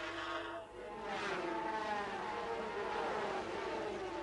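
500cc two-stroke Grand Prix racing motorcycles scream at high revs in sixth gear, about 10,300 RPM near 150 mph, a steady distant whine on a British circuit, heard alone without talk.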